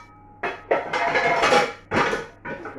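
A metal pan clatters and scrapes several times in quick succession, close by, with bright ringing bursts separated by short gaps.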